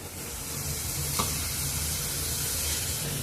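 Beans and carrots sizzle steadily in a hot pan as a vegetable paneer momo filling is sautéed, a continuous close frying hiss with a brief stir scrape midway and no talking.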